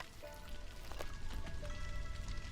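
Storm rain in a video game patters steadily, a dense hiss of drops striking surfaces with scattered louder splashes, fairly quiet and unbroken.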